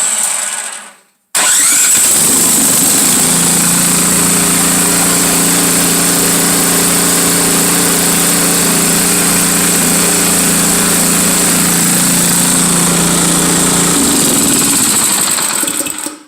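A small engine on an Ariens Compact 22 snowblower, newly repaired carburetor, starts after a brief pause and settles into a loud, steady, close-up idle roar with a constant hum, running alone until it cuts off near the end.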